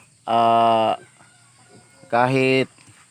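Two loud, drawn-out harmonic chicken calls, each nearly a second long, separated by a short pause; poultry vocalizing close by with little else around.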